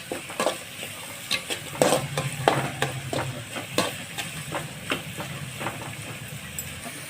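Onions sauté in a pan for a goat brain dish, with a soft, steady sizzle under repeated close scrapes and taps of a spatula stirring them at an uneven pace. No one talks.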